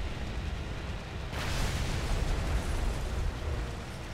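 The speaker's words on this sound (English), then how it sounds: "Drop one bomb there, drop another there" Bombs dropped from a Pe-3 Early aircraft in War Thunder burst into a broad, roaring explosion that swells sharply and rumbles on for several seconds, loud and noisy without speech.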